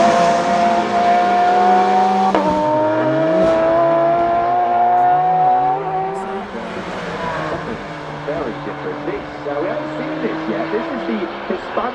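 Porsche 911 ST with a temporary roof running at the Goodwood Festival of Speed, its engine loud and close, revving and rising in pitch through several gear changes before easing off, with a commentator talking over it.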